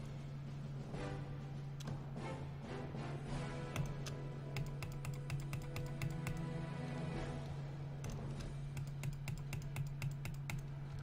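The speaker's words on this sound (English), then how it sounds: "Sorry if I'm clicking loud." Rapid clicking from a computer mouse during a Clicker Heroes session, loud and close, a dense stream of sharp taps that pauses briefly around the middle before resuming; no one speaks.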